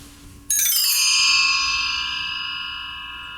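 A bell sound effect of the kind used on TV shows strikes once after a quiet moment, then rings with a bright, shimmering tone that slowly fades.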